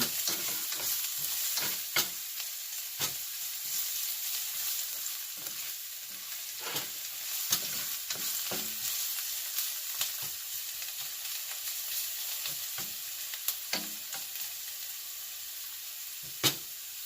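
Garlic frying in a pan for beef afritada gives a soft, continuous sizzle, with irregular spoon scrapes and taps against the pan recurring every second or two, fairly quiet and close, without speech.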